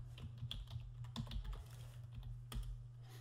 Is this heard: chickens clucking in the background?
no